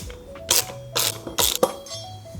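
Someone works a ratchet on the rear wheel of an electric bike, producing three or four loud bursts of rapid clicking with short pauses between them, close by and with no voices.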